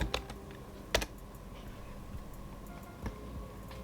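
Typing on a computer keyboard, a quiet rapid patter of clicks with a few louder key strikes, close and alone.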